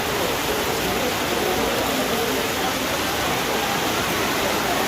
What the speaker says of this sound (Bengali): কি সাংঘাতিক বৃষ্টি চলছে।